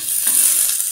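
A steady hiss of Banjar fried rice with prawns frying in a pan, with a couple of soft scraping stirs, close and continuous.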